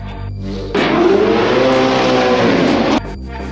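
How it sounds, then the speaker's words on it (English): Ford Mustang engine revving hard in one loud, sustained burst of about two seconds, cutting in sharply and dropping back to a low idle rumble. "This whole place has gone silent listening to this car."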